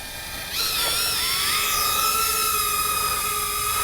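A BETAFPV Pavo20 Pro II 4S FPV drone with 2.2-inch props spools up and flies, a sudden loud high-pitched whine with shifting motor tones, steady and close, no talking.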